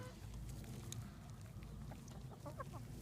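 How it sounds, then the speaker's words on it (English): Chickens cluck softly among garden beds of beets, low murmuring clucks under steady outdoor background noise, fairly quiet and continuous. "chickens in the beets"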